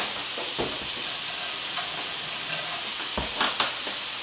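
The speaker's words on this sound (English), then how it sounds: "And I'm just basically frying them in there while the chicken's frying." Steady hiss of vegetables and chicken frying in hot oil, with occasional scrapes and taps of a utensil stirring the pan.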